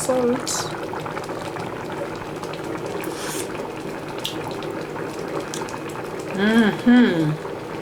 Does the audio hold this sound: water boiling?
yes